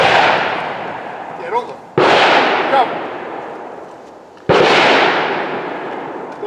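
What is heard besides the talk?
handgun shots fired during tactical training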